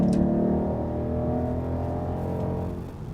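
Car engine revving with a sustained, loud, harmonic drone that holds steady for most of the clip, then eases slightly toward the end.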